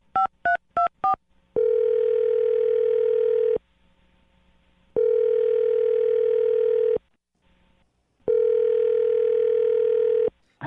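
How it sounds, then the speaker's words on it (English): A telephone dials a number with four quick tone beeps, followed by the ringback tone: three long, loud, steady rings separated by short silences. "I'm going to dial her phone number right now."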